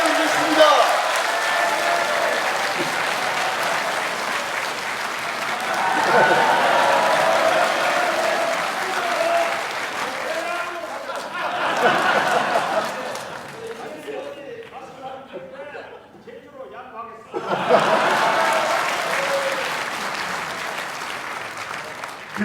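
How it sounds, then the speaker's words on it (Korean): An audience at a political party's legislative report meeting applauds in strong waves, with a brief dip where a voice talks over thinner clapping before a fresh loud burst of applause. "더 뜨거운 박수 부탁드리겠습니다"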